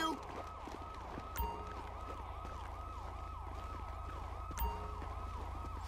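Ambulance siren in GTA 5, a continuous wailing sweep that rises and falls in regular cycles at moderate distance, with faint background traffic and a couple of brief thumps.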